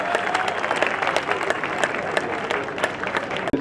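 A crowd applauds and cheers at a cup final match in Jaipur, with steady, dense clapping that runs throughout and a commentator's voice faintly underneath.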